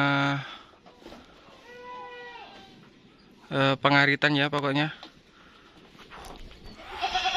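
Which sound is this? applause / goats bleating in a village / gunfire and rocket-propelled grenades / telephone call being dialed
goats bleating in a village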